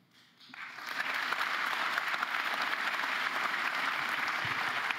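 An audience at a Liberal Party election platform press conference breaks into applause, rising quickly after a quiet start into dense, sustained clapping that holds at an even, fairly loud level to the end.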